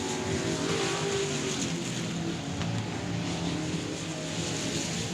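Street stock race cars lapping South Texas Speedway, a steady layered engine roar with a passing car swelling briefly, heard from a distance.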